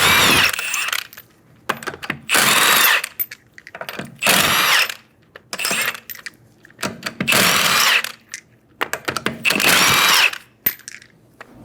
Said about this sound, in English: remove the 5 lug nuts.